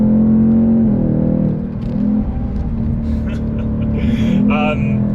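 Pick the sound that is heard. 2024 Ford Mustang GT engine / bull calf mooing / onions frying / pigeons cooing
2024 Ford Mustang GT engine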